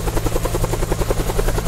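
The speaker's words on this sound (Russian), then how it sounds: "Военный вертолет." Military helicopter flying in the Minecraft Immersive Railroading game, a loud, steady rhythmic rotor thump with a continuous low engine drone, heard alone.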